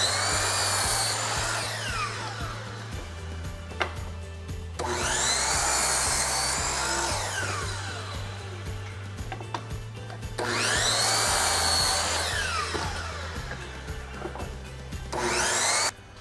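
Wood apron pieces for a mill are sawn in long repeated passes, each cut a loud rasping whine over a steady machine hum, broken by brief pauses between strokes.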